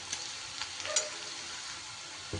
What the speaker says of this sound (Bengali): গ্যাসটা কমিয়ে রেখেই আমি ভাজছি